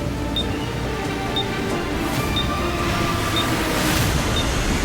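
Steady, continuous rumble and roar of a moving train, heard from close range with a dense low drone and faint periodic ticks throughout, no voices over it.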